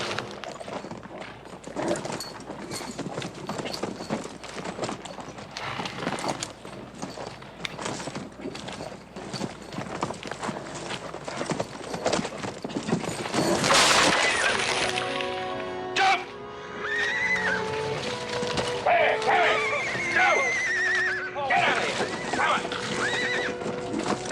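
A horse being broken whinnies and neighs loudly while its hooves clip-clop and thud on the ground, with shouting voices and commotion in a western ranch scene.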